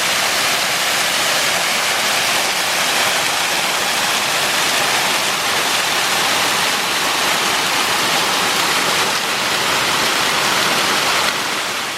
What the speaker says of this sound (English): Ah, found the first waterfall.